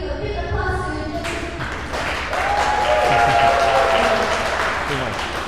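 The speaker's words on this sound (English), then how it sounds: "let's give a big applause to" Audience applause at a music-week keynote in Kuala Lumpur, a dense, continuous crowd clapping that swells midway, with a few tonal sounds and faint voices beneath it.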